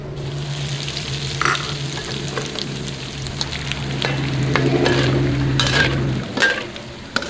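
Dried shrimp fry in oil with a steady, close crackling sizzle, broken by a few sharper pops and stirring scrapes near the end, with no talk.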